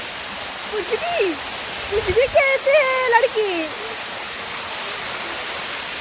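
A waterfall roars as a steady, broadband rush of falling water, with a voice speaking briefly over it in the middle.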